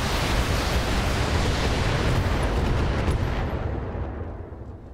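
Heavy mech weapons fire and impacts from the Battletech game, a dense, loud roaring barrage that fills the moment and slowly tapers off toward the end, with no talking.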